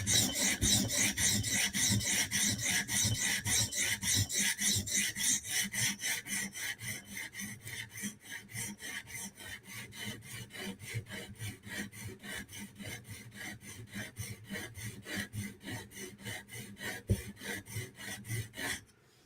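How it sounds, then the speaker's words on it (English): Knife blade sharpened on a TSProf Kadet guided sharpener, a Ruike flipper or CRKT M16, with fast, regular rasping strokes of the stone along the edge, loud and close, steady rhythm continuing alone without talk. "we're reducing the angle of the tip, which means we're working forward towards the front of the bevel"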